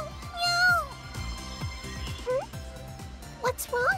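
Several cat meows from the video game Megadimension Neptunia, rising and falling in pitch, two clustered near the start and more near the end, over game music with background speech.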